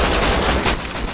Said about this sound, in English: A shot came from my right.